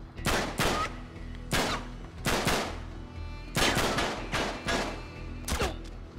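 Gunfire in the PS3 game Uncharted 3: Drake's Deception, with loud, sharp shots in irregular clusters, several quick bursts spaced across the clip, close and punchy with no talking.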